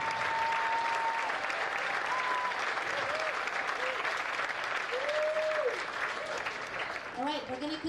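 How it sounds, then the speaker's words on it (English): An audience at the Western States endurance run awards ceremony claps for the top three men and women, with sustained, even, loud applause and a few whistles and cheers running throughout. "a big round of applause for our podium finishers, our top three men and women"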